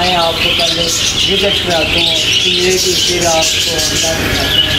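Pet lovebirds chirp and tweet in a rapid, busy chatter throughout, close and fairly loud, while someone talks over them.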